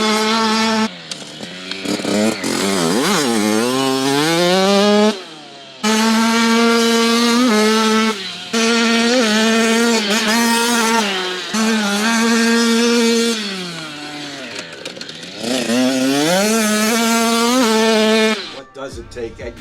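A small 65cc dirt bike engine revs up and down in loud, sustained bursts with rising and falling pitch and brief gaps between pulls, close to the listener.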